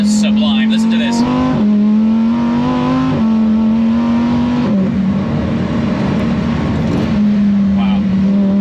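A Lamborghini Huracan STO engine pulls hard through its gears, a loud, close, rising wail that falls back briefly at each quick upshift and climbs again, with a voice briefly over it.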